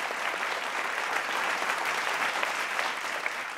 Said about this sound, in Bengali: সবার জন্য একটা জোরে হাততালি